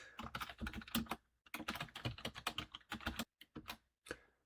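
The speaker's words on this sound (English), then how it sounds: "So I'm just going to type in here" Fast typing of a meeting name on a computer keyboard in Outlook, a dense run of crisp close keystrokes with short pauses between word bursts.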